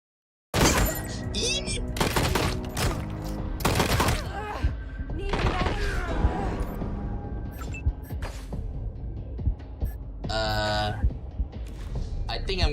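Gunfire in the video game Wasteland: loud, repeated bursts and volleys of shots, some rapid like a machine gun, with sharp impacts scattered between them.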